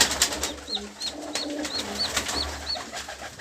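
A pigeon sits near its newly hatched chick, which came from an egg placed beneath it, and gives a run of about seven short, soft calls at an even pace, up close, over a low rumbling background.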